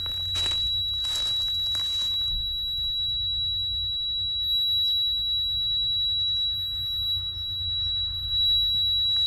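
A high-pitched electronic tone beeps without a break throughout, thin and steady above a low rumble, with a few brief rustling noises near the start.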